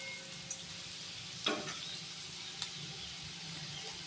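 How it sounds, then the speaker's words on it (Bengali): Chana dal and potato frying quietly in a pan, a soft steady sizzle with a few light spatula knocks and one louder stir. "ডালটা বেশ সুন্দর ভাজা ভাজা হয়ে গেছে, আলুটাও হয়ে গেছে"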